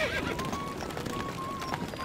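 A horse whinnies over a busy game-like soundscape in Stronghold Crusader, with faint hoofbeats and tonal effects running through the whole short stretch.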